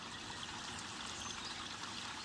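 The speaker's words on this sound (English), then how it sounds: "my water feature was finished" Garden water feature trickling: a continuous, even splash and trickle of running water, fairly close and steady, with no voices.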